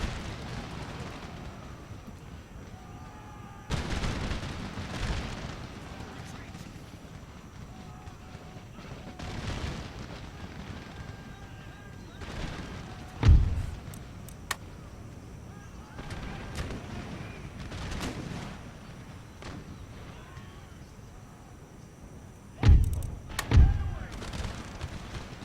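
Musket volleys on the battlefield in Empire Total War, scattered heavy booms and sharp cracks at irregular intervals over a steady rumble of distant battle noise.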